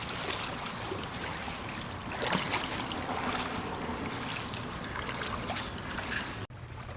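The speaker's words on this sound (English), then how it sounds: "so I'm going to paddle backwards." A stand-up paddle board paddle pulls backwards through water, making continuous close splashing and trickling with a few louder swishes, then an abrupt cut at the end.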